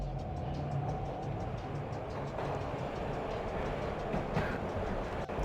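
A train in the Max Payne video game rolls past with a continuous rumbling, clattering wash of rail noise at moderate distance, steady throughout with no talk over it.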